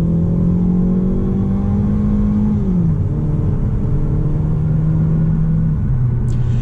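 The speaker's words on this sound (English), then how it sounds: "so let's get a little bit of an acceleration run here." 2018 Ford Focus accelerating onto the interstate, a loud steady engine drone rising in pitch, dropping briefly at a gear change, then climbing again under wind and road rumble.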